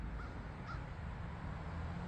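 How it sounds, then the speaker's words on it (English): Crows caw faintly in the distance, two short calls early on, over a quiet outdoor background. "I hear crows squawking"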